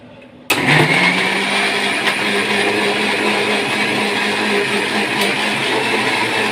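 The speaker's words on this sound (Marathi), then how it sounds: "हे संपूर्ण बॅटर छान असं मिक्सरला फिरवून घ्यायचं आहे" A kitchen mixer grinder switches on abruptly and runs steadily at a loud, constant whir, blending a batter made from leftover stale bhakri with no pauses.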